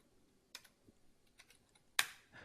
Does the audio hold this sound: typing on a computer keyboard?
yes